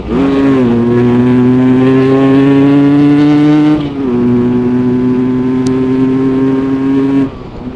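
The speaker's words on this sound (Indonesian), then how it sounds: "Mimin lagi pakai motor RX King" A 1983 Yamaha RX King motorcycle engine revs loudly and steadily in a high, droning pitch, dips briefly midway, then surges again before easing off near the end.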